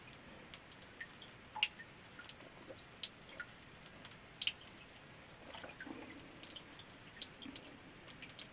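Water dripping from a spring-fed fountain along a trail near a hillside monastery, with faint scattered drips and small splashes over a soft steady trickle, heard up close and without voices.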